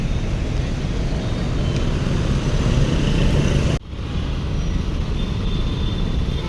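A Maharashtra State Transport bus passing at Kolhapur bus stand, a steady loud broadband rumble of engine and traffic that briefly dips midway before resuming.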